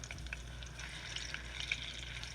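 Falafel frying in hot oil in a pan gives a steady, soft sizzle with small crackling pops throughout, fairly quiet and with no voices.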